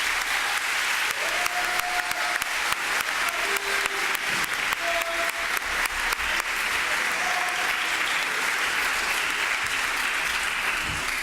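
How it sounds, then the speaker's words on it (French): Sustained clapping from an audience at a student debate event, steady and fairly loud for about eleven seconds, with a few faint whistles or voices scattered through it. "on peut les applaudir"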